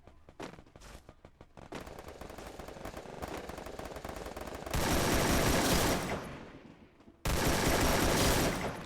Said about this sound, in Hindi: चारों ओर दबा के गोलियां पड़ रही होती है